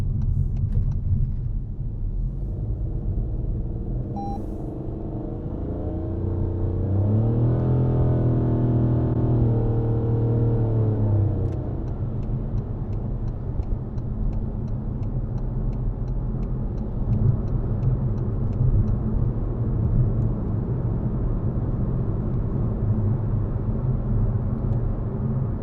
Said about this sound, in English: So here we are on a dual carriageway. I've set the cruise at 50 miles an hour